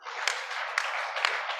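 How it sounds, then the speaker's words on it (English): A conference audience gives a steady burst of clapping, a dense, even patter of many hands held at moderate loudness for a second and a half with no voices over it. "Can we give him another clap?"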